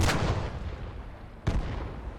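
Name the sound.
explosion from a WW2 video game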